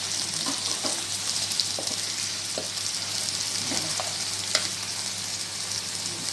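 Pancit bihon rice noodles with sliced green pepper are stirred in a sizzling pan, giving a steady frying hiss broken by soft, irregular scraping and clinks from the stirring.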